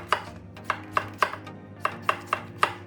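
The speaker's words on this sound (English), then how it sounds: "cut it into thin pieces." A knife chops zucchini halves into thin pieces on a cutting board for bibimbap, giving eight sharp, evenly spaced knocks at a steady rhythm, close and clear with no voices.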